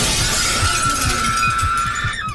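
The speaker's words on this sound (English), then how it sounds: "The window was smashed open by that horrible creep" Window glass is smashed open, a loud sustained crash with bright shattering and tinkling shards over a steady rumble, the breakage fading out at the end.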